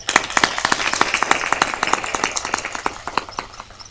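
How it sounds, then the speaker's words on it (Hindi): Applause from a crowd at a religious discourse in Mahmudabad, Uttar Pradesh: many hands clapping quickly and steadily, loud and close, with no voices over it. "महमूदाबाद के श्रोता ट्रेंड हो गए हैं ताली बजाने, समझ जाते कहाँ बजा रहा है।"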